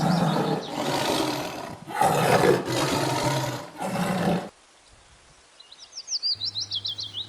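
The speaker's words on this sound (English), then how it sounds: "T for tiger" A tiger roars in several long, loud, rough bursts close up, followed by a quieter stretch with bright chirping calls and a rapid pulsing sound.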